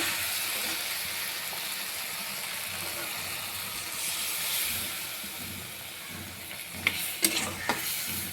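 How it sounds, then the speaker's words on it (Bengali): Spiced vegetables fry in a pan as water is added, giving a steady, close hiss and sizzle that fills the whole clip. A few brief clinks and scrapes come near the end. "সবজির সাথে মশলাটা আমার ভালো করে ভাজা হয়ে গিয়েছে। এবার এর মধ্যে একটু জল দিয়ে দিব।"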